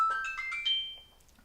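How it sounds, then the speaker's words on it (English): A mobile phone ringtone goes off: a short, bright electronic melody of several quick tonal notes, fairly clear and close. It fades out after about a second, with no talk over it. "my phone's going to go off through the rest of Contemporary."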